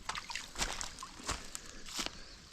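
Footsteps wading through a shallow creek, with several sloshing splashes at an uneven walking rhythm, close by, over a soft trickle of moving water.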